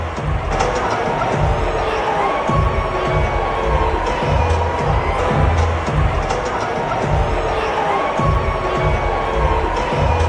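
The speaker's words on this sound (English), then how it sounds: "there were boos ringing out through the whole stadium" Stadium crowd at a World Series baseball game, a loud continuous roar of many voices that swells and rumbles throughout, dense and sustained with no single voice standing out.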